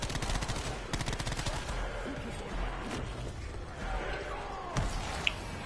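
Gunfire in Call of Duty Black Ops 4, with bursts of rapid game shots and impacts early on, then scattered thuds under talking, fairly faint overall.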